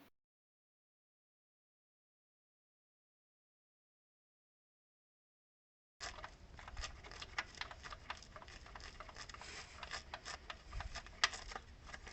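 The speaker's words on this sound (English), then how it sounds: "the other with a ratchet, socket, and extension." Ratchet with socket and extension working a 13mm starter screw on a car, a dense run of fast clicking ratchet ticks close by, starting abruptly after several seconds of silence.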